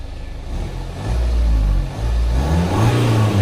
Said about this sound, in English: Now let's listen to the sound of this exhaust.